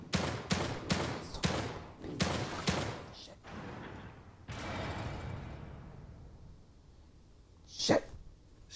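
Gunfire in The Evil Within 2, a rapid burst of several sharp shots in the first few seconds, then a noisy wash and one more loud bang near the end, with no talk.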